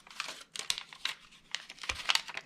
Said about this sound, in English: I want to be able to peel away the top portion of this